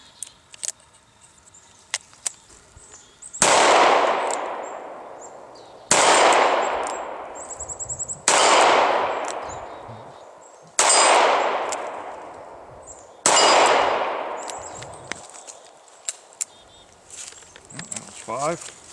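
A Taurus M445 revolver fires five loud shots at a shooting range, each a sharp crack with a ringing decay, spaced a couple of seconds apart; faint clicks and handling noises precede them and follow the last.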